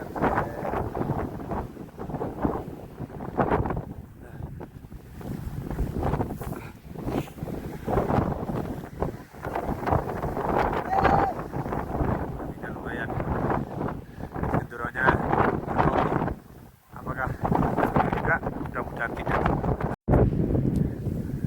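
Strong wind buffets the microphone on a mountain trail at sunrise, a continuous loud rumbling roar that barely drops out, with people talking underneath.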